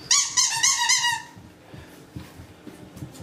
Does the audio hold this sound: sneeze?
no